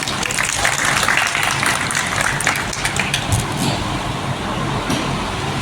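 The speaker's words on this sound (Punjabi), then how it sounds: "ਇੱਕ ਵਾਰ ਇੱਕ ਵਾਰ ਜ਼ੋਰ ਦਾ ਤਾਲੀ ਫੇਰ" Sustained applause from an audience at a political public meeting, dense steady clapping throughout, fairly loud with a crowd murmur and some low background rumble underneath.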